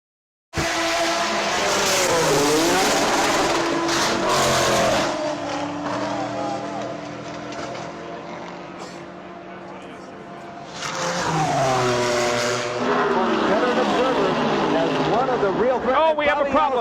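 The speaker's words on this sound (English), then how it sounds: "Bobby Allison with a horrible crash here on the front stretch." Race cars roar loudly through a crash at an oval race: engines rise and fall with squealing tires and skidding, a second surge of engine noise and tire squeal following a brief lull, with a commentator talking throughout.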